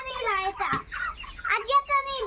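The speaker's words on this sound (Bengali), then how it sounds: "এই দেখ কালো মুরগিটা কত বড় হয়ে গেছে না বাবা?" A large black hen clucking close by in a bird pen, several rising squawking calls over about two seconds, loud and clear.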